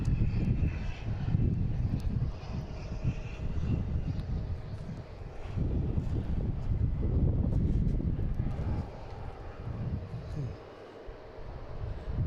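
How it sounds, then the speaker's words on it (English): An American Airlines jet arriving from Orlando lands at Boston Logan, its engines giving a loud, sustained broadband roar that swells and eases over the span, heard alone with no talk. "next coming in, we have American Airlines from Orlando"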